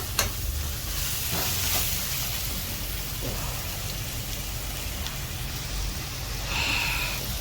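Steady close sizzle of onions or masala being sautéed in a hot pan while okra is being cooked, with intermittent scraping strokes of a spoon stirring through, continuous throughout with no voices.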